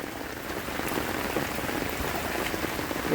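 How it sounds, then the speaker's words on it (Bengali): Heavy rain pours steadily on a rural village where floodwater has spread all around during a fishing outing; it makes a dense, continuous wash of drops that stays even and fairly loud throughout, with no voices. "যে পরিমাণ বৃষ্টি হয়েছে দেখেন, পানি কিন্তু একটা থইতেই হয়ে গেছে চতুর্দিক দিয়ে"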